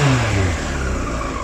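Engine of a Yamaha R1 5JJ motorcycle under restoration: a close, brief rev that drops in pitch, then hangs at a steady idle hum near 2000 rpm.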